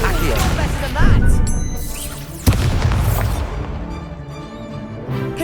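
Confringo blasting spell from Hogwarts Legacy going off in a dense, roaring mix of game effects, with one sharp boom around the middle amid continuous rumbling and music-like layers.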